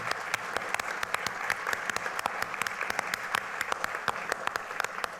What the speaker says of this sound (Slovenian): kar tudi zasluži en aplavz, ne?